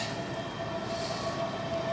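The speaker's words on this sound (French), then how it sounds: "vous voyez, il y a un tramway" A tram pulls away from a stop in a French street, giving a faint, steady rolling rumble with a thin electric whine, heard at a distance with no voices.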